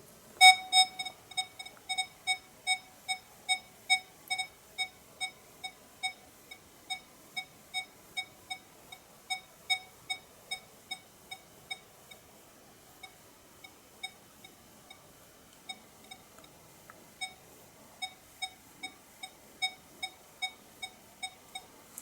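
A Nokta Score 3 metal detector signals over a copper 5-kopeck coin with a steady run of short, clear beeps repeating about once a second, evenly spaced and alone apart from faint background noise.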